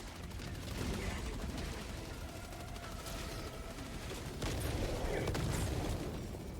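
Grenade explosion and gunfire in the video game Helldivers 2, a dense rumbling barrage of shots and blasts that swells louder toward the end, with faint voices mixed in.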